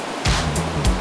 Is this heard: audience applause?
no